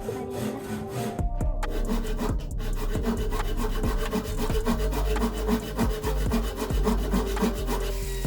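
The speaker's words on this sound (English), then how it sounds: "I trimmed the inner ones down a bit. First with a pull saw" Pull saw cutting through wooden panels, a steady series of close, rhythmic rasping strokes with regular back-and-forth pulses throughout, no talking.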